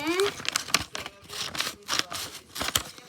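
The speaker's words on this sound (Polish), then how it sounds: "dzisiaj będziemy otwierać moją paczkę" Plastic packaging crinkles and tears in short bursts as a parcel of Squishmallow plush toys is unwrapped close by, with someone talking over the rustling.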